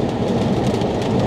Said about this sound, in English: Now it's raining, like cats and dogs out here.